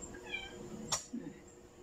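A pet cat meows while eating, a short, moderately close cry amid faint chewing and background noise, with no talking.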